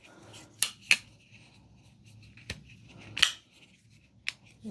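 A Ketuo Syndicate folding knife with a mirror-polished blade and zirconium-titanium handle is flipped open and shut, giving a few sharp, close metallic clicks separated by short quiet gaps under gloved handling noise.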